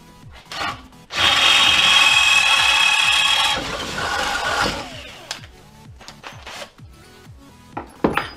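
A Parkside percussion drill from Lidl widening a hole with an 8 mm bit: a loud, sustained whirring grind for about two and a half seconds, then a quieter tail of rubbing and scattered knocks and clicks as the tool is handled.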